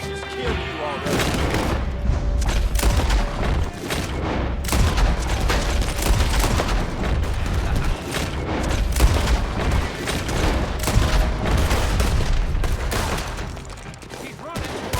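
Dense, continuous gunfire from many directions in the Red Dead Online video game, with booming shots and rapid volleys layered into a loud, unbroken fusillade, with a voice at times under the barrage.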